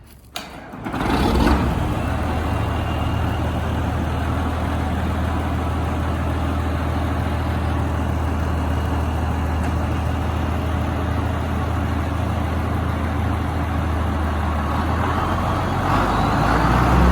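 A farm tractor used for cultivating and discing starts with a short crank and then runs at a steady, loud, low diesel-like idle close by, continuing unchanged for the rest of the clip.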